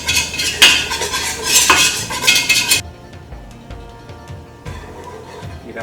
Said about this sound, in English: I'm just going to start whisking it